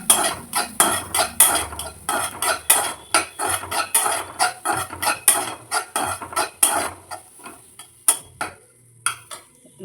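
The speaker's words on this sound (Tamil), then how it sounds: "தேங்காய் கொட்டிக்கினேன், அதையும் வறுத்துக்கணும்." Grated coconut being roasted in a metal pan for kozhukattai, with a quick, uneven run of spoon-on-pan scrapes and clinks close up, crisp and rhythmic, and no talking.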